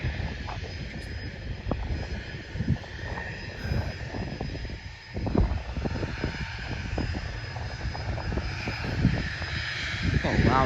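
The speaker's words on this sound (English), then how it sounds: "A loud private jet if I've heard one." A loud private jet at Bluegrass Regional Airport in Lexington, Kentucky, gives off a broad, steady engine roar that fills the whole stretch, with wind buffeting and a high whine running through it.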